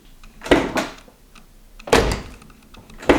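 Close, solid car door thunks on a Porsche 996 Turbo with a brief whirring power window motor between them, three distinct clunks spaced over a few seconds.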